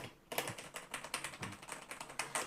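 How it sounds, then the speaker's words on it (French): An Asus ROG Strix Tactic Pro mechanical keyboard with red switches is typed on in a quick, uneven run of crisp clicks, close and fairly faint with no talking. "c'est un clavier mécanique, c'est des switches rouges"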